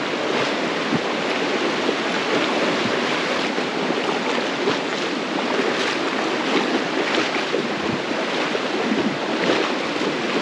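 The Palomino River in the Colombian mountains rushes in a steady, dense broadband roar, a constant close wash of flowing water with no breaks or voices.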